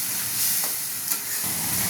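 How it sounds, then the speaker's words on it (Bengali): Spices stir-fry in oil for prawn malai curry, a loud continuous sizzle and hiss with brief surges as the mixture is stirred, close and alone. "এবার মা এই মশলাগুলোকে নেড়ে নিচ্ছে যতক্ষণ না তেল ছাড়ছে মশলা থেকে"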